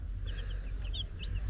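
Ulikba chickens, white with tall crested heads, cluck softly and repeatedly nearby, short bright calls spaced irregularly over a low steady background rumble, with no voices.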